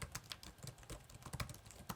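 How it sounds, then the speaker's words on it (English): Soft keyboard clicks from typing on an MSI GE76 Raider gaming laptop, a steady run of quiet, close keystrokes with irregular rhythm and no voices. "Typing on the keyboard feels great. A nice soft click that results in a pretty silent keyboard."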